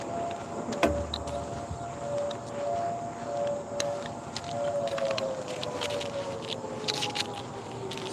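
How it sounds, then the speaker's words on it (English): Sirens wail steadily in the distance behind an outdoor recurve archery session, their long rising and falling tones holding faintly under quiet ambient noise. "Sirens are going. Can you guys hear those going in the background?"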